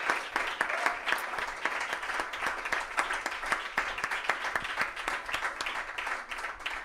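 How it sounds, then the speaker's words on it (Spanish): Audience applause for a poet at a book presentation, many individual claps audible in an uneven, lively rhythm that stays fairly consistent and moderately distant. "que le demos un aplauso a esta mujer maravillosa, a esta tremenda poeta"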